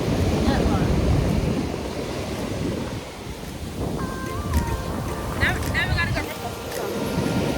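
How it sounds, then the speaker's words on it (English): Strong wind blows across a beach as a constant roaring rush, with surf beneath it and faint voices now and then. "It's like the wind out here."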